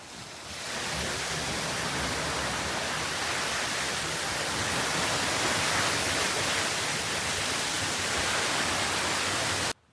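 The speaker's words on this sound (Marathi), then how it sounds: "हा बघा आमचा छोटासा धबधबा." A small waterfall at a village farmhouse rushes in a dense, steady roar, close and loud, holding constant for nearly the whole stretch before cutting off abruptly.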